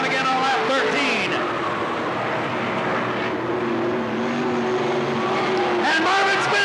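Race cars lapping at Cottage Grove Speedway in 1991, engines droning and rising as they pass, under an announcer's continuous race commentary.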